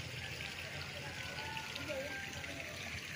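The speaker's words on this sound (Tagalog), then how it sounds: "Tapos ito yung bukal. Galing po ito sa property." Natural spring water flows steadily on farm property beside a highway in Siniloan, Laguna, a soft continuous trickle and gush with faint background noise.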